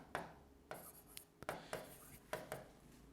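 Pen writing on paper while working a maths problem: short, quiet scratchy strokes in separate bursts, close and faint, with no talk over them.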